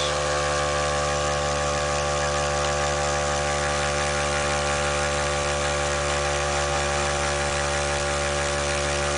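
Rodin-Starship coil pulse motor spinning at about 4,600 RPM, a steady electric whine and hum with stacked tonal lines, constant and close throughout, no voices.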